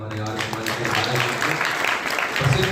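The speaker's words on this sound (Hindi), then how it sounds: "एक बार जोरदार तालियां हमारे" An audience at an Arya Samaj stage event applauds steadily for several seconds, a dense crowd clapping mixed with voices and background murmur.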